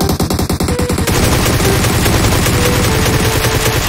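Rapid automatic gunfire from the mobile battle royale game PUBG Mobile rattles in dense, loud bursts throughout, with no voices heard.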